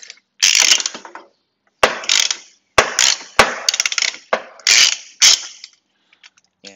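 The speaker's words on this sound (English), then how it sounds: "I'm going to loosen this nut again" A ratchet loosens an axle nut on a vehicle, making close, loud bursts of rapid clicking in about six separate strokes with short gaps, some strokes opening with a sharp knock.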